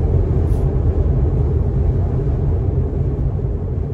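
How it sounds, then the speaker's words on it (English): Steady low road and wind rumble fills the cabin of a Tesla Model 3 cruising on a freeway at 110 km/h, a constant droning hum with no talking. "take in what it's like to sit in a Tesla Model 3 on the freeway at 110 kilometers per hour"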